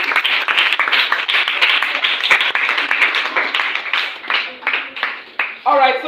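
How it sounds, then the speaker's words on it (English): Audience clapping after a presentation at a live event, a steady burst of many hands that gradually thins into scattered claps, with a voice coming in at the end. "Let's keep on clapping while they say they are doing."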